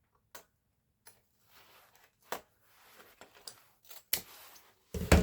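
Scissors snip ribbon for an artificial Christmas wreath, with several sharp, close cuts spaced irregularly in a quiet room and a louder burst of handling at the end.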